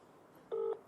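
A single short telephone keypad dialing tone beeps once, clear and close, as a call back is placed, against a quiet background.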